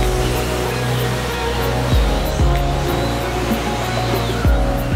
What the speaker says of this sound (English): We are arriving at the second waterfall.